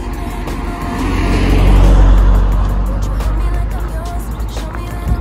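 A car drives past on the grounds of Whiteabbey Hospital in County Antrim, its engine rumble swelling as it nears and then fading away, loud and close, with outdoor background noise.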